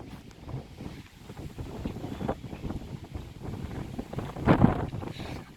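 Strong storm wind sweeps through Haridwar, buffeting the microphone with a steady roar and rumble. It builds into a louder gust near the end.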